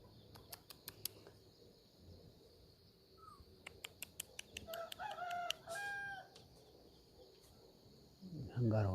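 Chickens near a coop give a few short clucks and squawks, with wing flaps and scattered sharp knocks in a quiet outdoor setting, and a person speaks briefly at the end.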